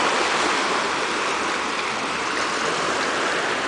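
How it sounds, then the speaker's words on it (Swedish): Water pours steadily from a fishing boat's pump on Koh Ngai, a loud, continuous rushing splash that holds even throughout, with no talk over it. "Och vattnet rinner ut."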